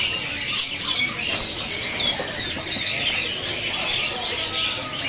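A black-headed takur bird at a bird kiosk, amid a continuous busy wash of chirping, squawking and fluttering from many caged birds close by, with no talk.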